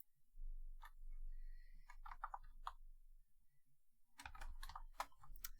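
Computer keyboard typing in bursts of quick clicks, close and clear, with a pause mid-way before a denser flurry of keystrokes, over a low steady hum.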